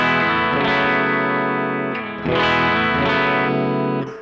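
Gretsch G5622T semi-hollow electric guitar with Bigsby, played on both pickups through distortion and chorus effects: sustained strummed chords ringing loud and close, with a brief dip near the two-second mark before another strum.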